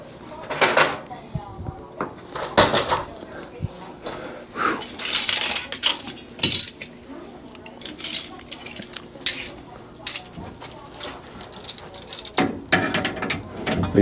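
A wrench starting a fitting on a dental office nitrous oxide manifold and regulator: close metallic clinks, scrapes and ratchet-like clicks in irregular bursts, with someone talking in between.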